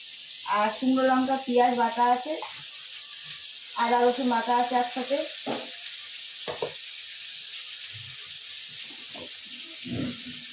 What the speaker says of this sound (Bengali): আমি এখন মশলাটা দিয়ে দেবো বাটা মশলা এখানে ধনে জিরে